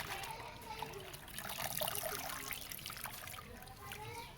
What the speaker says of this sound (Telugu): ఇట్లా కడిగేసి ఇలా పెడితే అటు పక్క పెడితే నీళ్ళు కారుతాయి మంచిగా